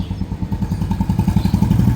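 A motorcycle engine, said to have sat unused and stalled through the monsoon, runs close by with a loud, steady low throb and regular rapid pulses, no voices over it.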